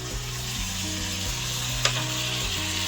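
Onion paste and ground coriander sizzle steadily in a hot pan while cooking boal fish curry, a continuous bright frying hiss with a low stirring rumble underneath and one sharp spatter near the end, with no talking.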